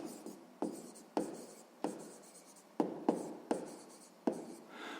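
Pen strokes writing out a sixth-grade math solution on paper, a run of about eight distinct scratching bursts in an uneven rhythm, close and fairly quiet with no talking.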